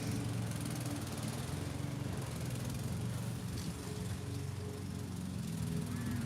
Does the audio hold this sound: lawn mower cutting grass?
yes